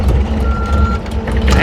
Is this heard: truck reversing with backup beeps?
yes